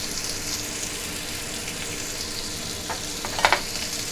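Potatoes frying in a pan hiss and sizzle continuously at close range, with a few light scrapes of stirring near the end and no talking.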